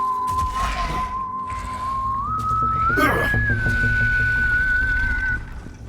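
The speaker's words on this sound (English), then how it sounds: "Someone was whistling." Someone in the Borderlands 3 video game whistles a single long, rising note that holds and wavers for several seconds over a low ambient game background.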